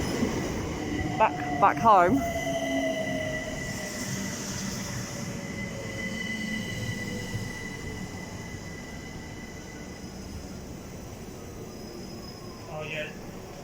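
A train pulls into Greenwich station with a low rumble, brief squeals from the wheels and a fading whine, heard from the platform, with someone talking near the start.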